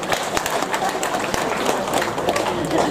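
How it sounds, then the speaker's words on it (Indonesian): A church congregation claps during a Catholic sermon, producing a steady wash of applause from a crowd that holds evenly through the whole stretch. "Tepuk tangan untuk mereka dulu."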